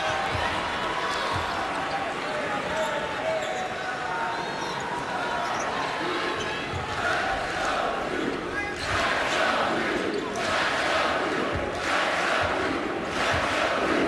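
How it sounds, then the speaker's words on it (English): A basketball arena crowd during a Syracuse Orange versus Duke Blue Devils college game counts down the shot clock, a broad roar of many voices with rising shouted bursts, while a commentator talks over it. "Crowd counting down the shot clock."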